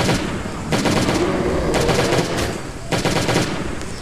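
Bursts of gunfire from a weak gun in the Last Day on Earth: Survival video game come in three or four sharp, loud volleys over a steady game background.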